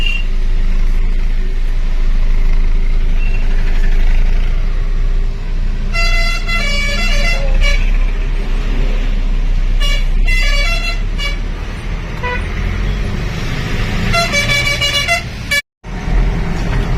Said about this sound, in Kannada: ಗಾಡಿ ಹತ್ತುತ್ತಾ ಇದೆ, ಎಳಿತಾ ಇದ್ದಾನೆ